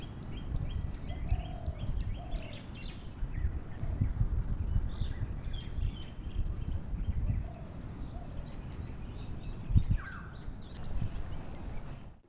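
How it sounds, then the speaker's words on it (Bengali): Many birds chirp and call in a casuarina grove near a beach in the morning, overlapping high tweets and whistles coming from several directions, moderately loud over a steady low rustle of wind and surf, with no talking. "এই ঝাউবনের মধ্যে না প্রচুর পাখির আওয়াজ শুনতে পাচ্ছি সকালবেলা।"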